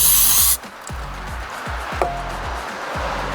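A short, loud hiss of aerosol cleaner sprayed onto a dirt bike carburetor bowl cuts off after half a second, leaving a low, steady rhythmic thumping close by.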